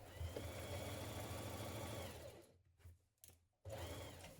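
A sewing machine stitching a trouser back crotch seam runs in a fast, steady whirring rattle, stops briefly with a few short bursts, then starts again at full speed.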